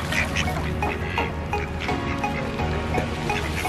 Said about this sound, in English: So we're feeding the ducks